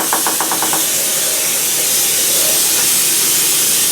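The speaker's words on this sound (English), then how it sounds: "I'm going to go ahead and spray my pan." Cooking spray hisses onto a cake pan in a loud, close, steady burst lasting several seconds, preceded by a few quick rattling clicks as the can is shaken.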